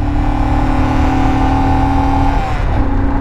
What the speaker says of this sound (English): Let's wait for them revs to build up.